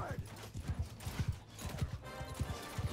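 Horse hooves clip-clop in quick, steady beats with a brief whinny in Bannerlord Online, a medieval battle game, close and loud with faint background talk.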